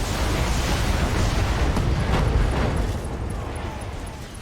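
Mech explosions in the video game BattleTech, a dense, loud roar of blasts and rumbling booms that fills the first three seconds, then eases into a quieter, sustained rumble.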